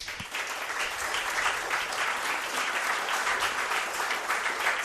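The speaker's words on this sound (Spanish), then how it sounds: "Os pido un aplauso para él" An audience at a talk on La Gomera gives sustained, even applause, a continuous wash of clapping heard at moderate distance for several seconds without voices.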